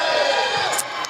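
A loud, sustained crowd roar fills a gym after a dunk in a Calhoun versus Northeast Mississippi basketball game, holding steady, then easing slightly near the end.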